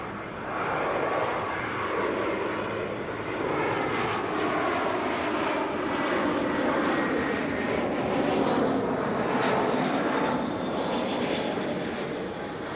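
Jetstar airliner inbound from Sydney to Auckland Airport, a steady, loud jet engine roar that holds broadly for the whole stretch with shifting tonal whine, no voices over it.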